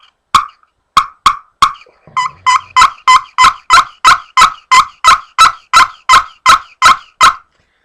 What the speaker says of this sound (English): Now we're going to go back to the walnut call. See, it's got a little deeper sound.